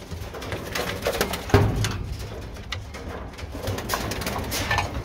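Pigeons in a breeding loft coo softly at close range, low throaty calls repeating under a rustling, busy background with occasional flutters.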